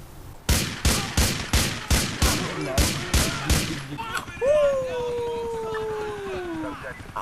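A rapid burst of about eight loud gunshots in GTA IV in an even rhythm, followed by a drawn-out howling, wailing tone with voices underneath.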